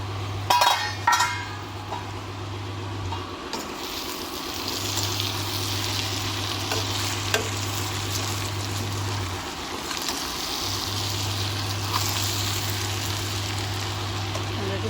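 Bhindi (okra) sabzi cooks in a pan on a gas stove with a steady, close sizzle. A low burner hum runs underneath, broken by a few light clinks of utensils.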